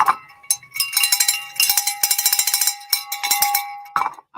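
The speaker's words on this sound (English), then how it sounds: "I almost forgot to ring the bell" A hand bell rings steadily for about four seconds, a bright metallic peal with a sustained tone, loud and close, during a hotfix rhinestone crafting giveaway.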